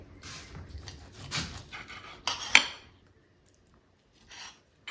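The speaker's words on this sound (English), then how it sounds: "let me cut it and I'll show you the inside" A knife cuts through an air-fried bacon-wrapped steak on a plate, with scraping and sawing and one sharp clink of metal on the plate, then near silence.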